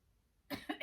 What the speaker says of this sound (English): So kind of getting that cough to happen.